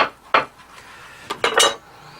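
Several sharp knife chops against a cutting board as dried apricot is coarsely cut, a quick irregular handful of taps, close and clear without talk.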